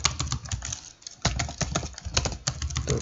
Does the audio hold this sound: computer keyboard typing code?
yes